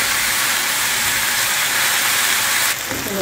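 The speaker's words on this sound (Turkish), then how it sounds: "bunları bir güzel 10 dakika kadar karıştırarak kızartmaya çalışacağım" Potatoes frying in a pan for a skillet potato stew, a loud, dense, steady sizzle like hissing steam that continues without a break and shifts slightly near the end.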